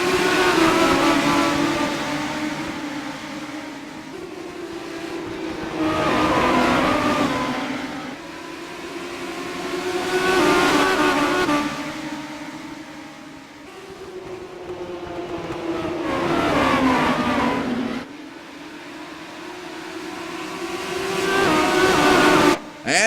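Legends race cars at full speed around Irwindale Speedway: loud engine roars swell and fade as the pack sweeps past about every five seconds, each pass rising and falling in pitch.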